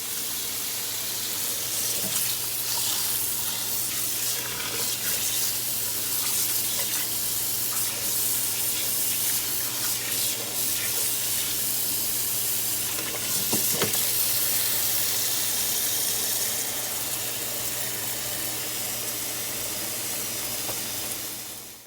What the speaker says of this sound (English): put some like super cold water on it now